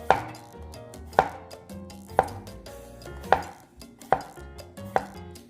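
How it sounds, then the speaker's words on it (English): A knife chops vegetables sharply on a cutting board, about six loud distinct strikes spaced roughly a second apart, with no talking. "Sorry if that chopping is loud on there"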